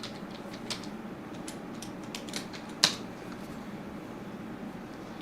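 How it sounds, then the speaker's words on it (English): Keyboard typing on a computer, heard as soft scattered clicks with one sharper tap near the middle over a steady low room hum, no voices. "Typing session."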